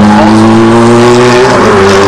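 A Ferrari F430 sports car drives past loudly and close on a track during a driving course day, its engine note holding steady and then rising in pitch over about two seconds.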